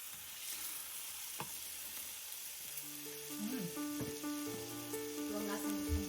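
Shrimp and ketchup sizzling in a frying pan for a spicy mango shrimp dish, a steady close crackle and hiss that grows a little louder toward the end, with faint tonal background sounds and a voice briefly in the background.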